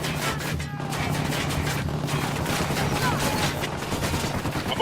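Sustained gunfire in the Ghost Recon Wildlands video game, a dense, continuous barrage of shots at close range with a low rumble underneath, loud throughout with no pauses.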